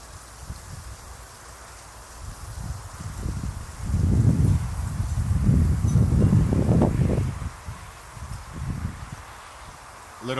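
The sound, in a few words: wind blowing outdoors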